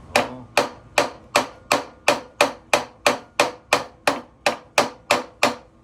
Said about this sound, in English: use a brass hammer